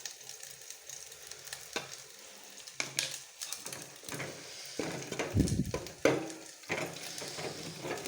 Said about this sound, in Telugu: టమాటాలు వేగిపోయాయి కాబట్టి ఇప్పుడు మనం గరం మసాలాలు వేస్తాం.